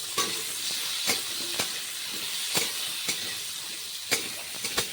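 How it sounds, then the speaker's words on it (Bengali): Potatoes frying in oil with turmeric give a steady close sizzle, broken by sharp scraping stirs at irregular intervals, with no talking. "হলদি দিয়ে ভালো করে লাল লাল করে ভেজে নেব"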